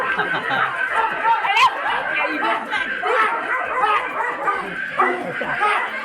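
A stray dog at an open-air stage drama in Kannur, Kerala, barks and yips repeatedly amid a busy wash of voices and crowd noise.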